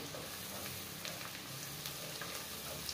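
Garlic sautés in a pan for garlic buttered shrimp, giving a steady, close, even sizzle and crackle of frying throughout with faint stirring and no voices over it.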